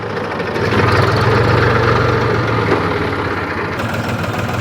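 A tractor engine idles steadily on a farm, a loud, continuous low rumble with a throbbing beat that holds for the whole stretch, with no talk over it.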